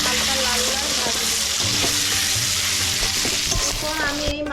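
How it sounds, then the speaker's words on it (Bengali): Potatoes frying in hot oil with salt and turmeric for a fish curry, a steady close sizzle with occasional stirring scrapes and no talking. "আলুর ভেতরে একটু নুন আর হলুদ দিয়ে ভাজবো,"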